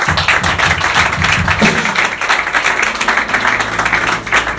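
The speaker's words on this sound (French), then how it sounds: "Acclamez très fort pour le Seigneur." A church congregation applauding loudly for the Lord during a sermon, dense sustained clapping with cheering voices mixed in, filling the whole stretch at close range.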